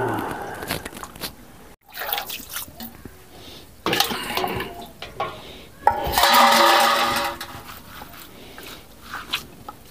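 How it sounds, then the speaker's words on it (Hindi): Fish being washed by hand in a bowl of water: close splashing, dripping and sloshing come in irregular bursts, with louder swirling near the end and no talk. "देखिए हम मछली हम धो लेते हैं।"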